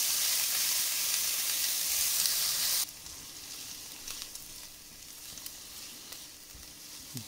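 Shallots and carrots sautéing in a pan for a chicken chasseur, a steady loud sizzle that drops abruptly to a softer, continuous frying hiss with faint stirring clicks, no voices.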